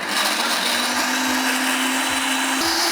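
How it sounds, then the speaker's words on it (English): A kitchen blender whirs steadily and loudly, pureeing a curry sauce of chillies, turmeric, black pepper and a little water, its motor pitch holding even and then stepping up slightly near the end, with no voices. "This is a good blender."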